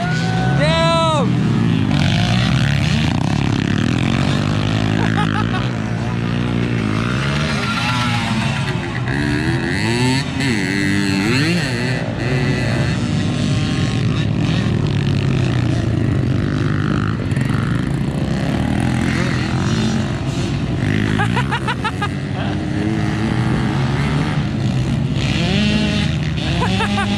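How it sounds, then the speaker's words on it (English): Loud, continuous engine drone from a 1974 Yamaha MX100 motorcycle ridden on a motocross track at Wabash Cannonball MX, with pitch rising and falling as it revs, running steadily throughout with no pauses. "that was us, or me, riding the MX100"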